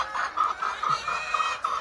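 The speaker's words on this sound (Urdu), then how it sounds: "یہ میاں پولٹری فارم کی مرغیاں ہیں" Hens on a desi poultry farm in Punjab, Pakistan, clucking close by in quick repeated bursts, several short calls in a row.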